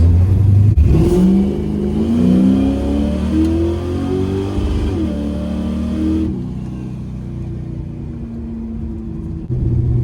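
Carbureted Chevrolet Camaro on street tires launching hard from a standstill on a cold, dusty road, its engine roaring loud and close as revs climb through a rising sweep, then easing back after about six seconds.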